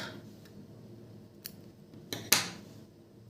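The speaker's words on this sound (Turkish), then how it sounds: "Ve bu renk ipimi burada kesiyorum." Scissors snip yarn during crocheting of a flower-and-star bath scrubber, heard as a couple of quiet close clicks and then one sharper cut in a quiet room.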